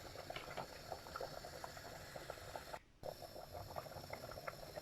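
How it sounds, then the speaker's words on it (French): Spinach and peanut sauce with fresh okra bubbling in a pot, a steady soft simmer with small popping bubbles running continuously, briefly cut out for a moment midway. "la sauce est en train de bouillir"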